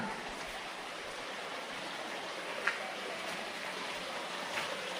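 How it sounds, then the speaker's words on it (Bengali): Steady rushing water from a small waterfall stream inside Arwah cave, Meghalaya, fills the space with even broadband hiss, no voices. "জলের ঝর্ণা"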